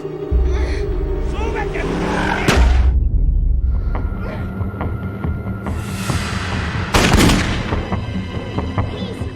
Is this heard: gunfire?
yes